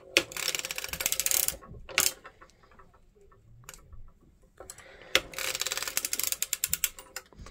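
A 48-stitch circular sock machine is cranked while knitting a picot hem, giving bursts of rapid, close ratcheting clicks separated by quieter pauses of lifting needles.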